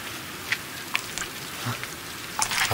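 Rain falling in the horror video game Siren: a steady soft hiss with scattered light droplet ticks and a few brief splashes, fairly faint and with no talk over it.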